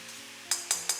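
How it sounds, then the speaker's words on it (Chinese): Winter melon slices stir-fried in lard and sauce over low heat crackle with a soft sizzle, broken by three quick scraping clinks of a spatula against the pan in close succession. "小火炒出酱香味，让每片冬瓜都裹满猪油和酱汁"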